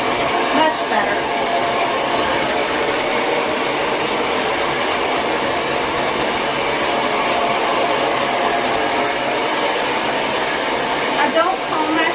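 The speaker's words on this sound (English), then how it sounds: "I don't comb my hair or brush my hair as I am blow drying it" A Lange Soleil hair dryer with a diffuser attached runs continuously while blow drying thick hair, a loud, steady close-up whoosh and whine that holds without a break.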